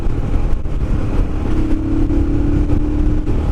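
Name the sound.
Royal Enfield Himalayan motorcycle engine at full throttle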